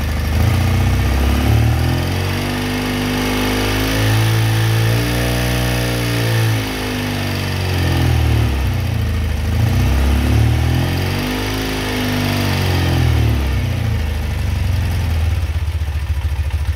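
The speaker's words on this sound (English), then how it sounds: "now that the engine's started and had a second or two to warm up." A BMW Airhead boxer-twin motorcycle engine fitted with a Wedgetail aftermarket electronic ignition idles just after starting: a loud, close, steady low-pitched chug that rises and dips slightly in speed, running on its own without talk.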